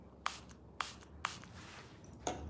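Water mist from a vibrating skincare tool sprayed in short, sharp hissing bursts, four spaced puffs close by in a quiet room.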